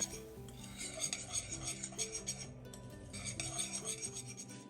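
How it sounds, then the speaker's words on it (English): A spoon stirs parsley and garlic powder together in a bowl for a pasta topping, a soft rhythmic scraping and rubbing close by, with quiet music underneath. "and then I'm going to add 1 tablespoon of parsley, a 1/4 teaspoon of garlic powder, and then just stir that up"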